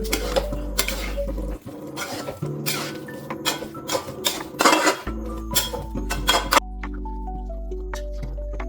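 Metal spoon scraping and clinking against a pot while chicken curry with chilli powder is stirred, a steady run of sharp taps and scrapes over a low constant hum from the stove.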